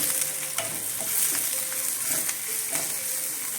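Onions and garlic frying in a pan give steady crackling sizzle with intermittent scraping stirs, close and fairly loud, with no voices.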